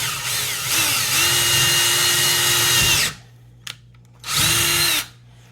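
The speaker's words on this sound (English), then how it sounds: "So I'm just going to line it up on the hole. And then we're just going to drill it." A power drill whines loudly for a few seconds drilling through a cabinet door, stops, then gives another short burst, close up with a faint click between runs.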